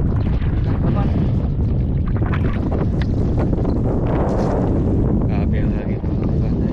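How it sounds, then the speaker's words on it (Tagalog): Loud, steady wind at sea roars and buffets the microphone throughout, with faint voices partly buried beneath the gusting noise. "Grabe ang hangin."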